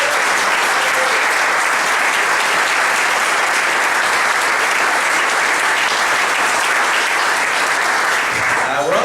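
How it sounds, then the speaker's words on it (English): A large audience at a sponsor appreciation event gives loud, sustained applause. Dense clapping fills the whole stretch and fades slightly at the end. "Please join me in a quick round of applause of appreciation for our incredibly generous two lead sponsors"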